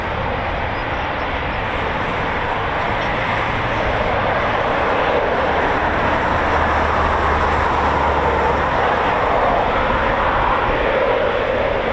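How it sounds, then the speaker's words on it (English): A Eurofighter Typhoon FGR4 jet makes a loud, continuous engine roar that swells gently over twelve seconds at an RAF flypast, with no voices. "So the Typhoon, a multi-role aircraft, carry out a variety of roles, from ground attack bombing missions to strategic bombing to the fighter role"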